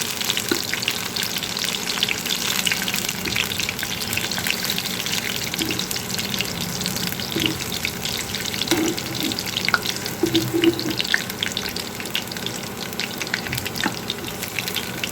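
Food frying gently in a pan on low heat, a dense, steady sizzle lasting throughout, with faint clinks and watery splashes mixed in, and no one speaking.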